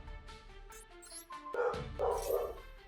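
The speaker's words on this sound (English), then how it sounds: "my dog's barking" A dog barks in the background during an online Yu-Gi-Oh Master Duel ranked match, giving a few short, moderately loud yips and barks over faint game sounds.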